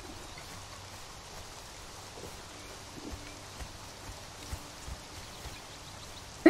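Rain in the video game Conan Exiles falls as a faint, steady hiss with scattered soft drop ticks and a sharp knock at the end.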